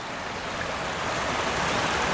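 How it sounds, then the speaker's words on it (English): A river flowing steadily along a cycling route past an old mill site, a continuous broadband rush of moving water at moderate, even loudness with no voices. "Yeah, it's a lovely river."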